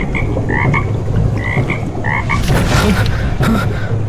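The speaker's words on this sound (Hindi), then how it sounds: "तभी पीछे पानी में हल्की टर टर की आवाज हुई।" A frog croaks repeatedly in short, regular calls, loud and close, over a steady chorus of other croaking and a watery background hum.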